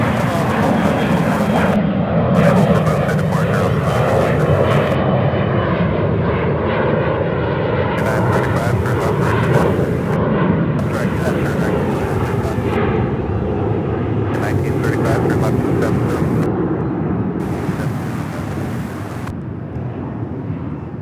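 An American Airlines jet on approach at Charlotte Douglas International Airport gives a loud, sustained engine roar that slowly fades toward the end, with radio chatter mixed in.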